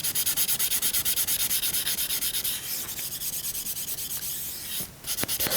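Rosin is rubbed onto a violin bow in fast, steady back-and-forth strokes that scrape close by in an even rhythm, briefly pausing near the end before resuming.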